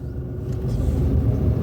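Car idling and creeping along a narrow residential street while turning, a low steady engine rumble heard from inside, rising slightly as it moves.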